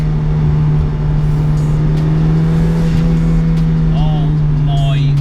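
A 300 bhp turbocharged Mazda MX5 with widened track and a big rear wing drones steadily and loudly from inside the cabin, with a constant low engine note under brief vocal exclamations.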